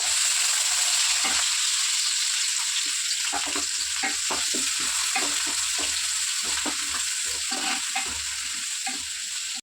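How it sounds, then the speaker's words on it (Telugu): Onions frying in hot oil with cumin and mustard seeds for a mango, brinjal and fish curry, a steady loud sizzle broken by repeated stirring scrapes, no voices. "ఇవ్వండి ఉల్లిపాయలు వేస్తున్నాను."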